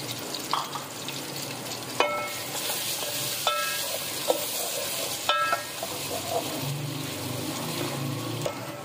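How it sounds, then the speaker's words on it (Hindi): Two chopped onions hit lightly heated oil and fry with a steady, close sizzle, broken by a few sharp clinks of a spoon against the pan, with no talking. "इसके अंदर हम डालेंगे 2 कटी हुई प्याज और इसको नरम कर लेंगे"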